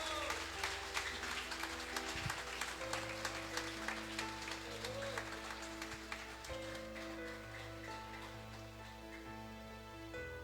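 A church congregation applauds during a worship service, a soft, distant wash of many hands clapping steadily over low sustained keyboard tones.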